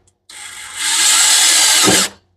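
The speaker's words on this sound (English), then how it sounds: "Maybe I just need to drill a pilot hole" A power drill boring a pilot hole while a turbo Mustang's IAT and MAP sensors are being mounted, one continuous loud whine that spins up and holds steady for under two seconds before cutting off, with no talk.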